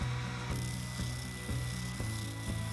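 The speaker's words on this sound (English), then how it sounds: "then spent some time at the spindle sander to clean it up" Spindle sander smoothing a wooden cane handle, giving a steady close motor drone with soft, regular rhythmic pulses about every half second, heard alone without talk.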